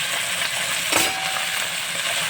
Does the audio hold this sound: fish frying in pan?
yes